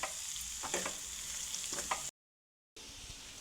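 Cauliflower fries in a pan with chilli powder, giving a quiet, steady sizzle with a few soft stirring scrapes, cut off by a brief silent gap before the frying resumes.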